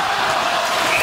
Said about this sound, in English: the crowd is chanting now